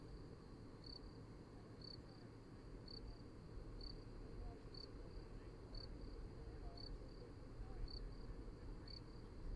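Crickets chirp steadily at night outdoors near a SpaceX Starship test site, a soft, evenly pulsed trill repeating about once a second over a quiet low rumble.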